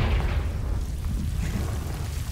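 Confringo blasting spell from Hogwarts Legacy bursts in a deep, rumbling explosion that swells at first and then rolls on as a low, heavy boom fading slowly over a couple of seconds.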